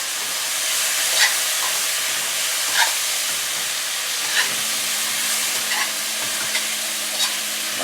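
Minced garlic and ginger sizzle steadily in a very hot pan, a close, even hiss broken by a few soft knocks of stirring every second or so.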